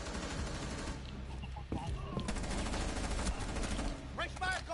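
Shooting in an online first-person shooter match, repeated gunshots and short bursts at moderate distance over steady game ambience, with a few sharper reports near the end.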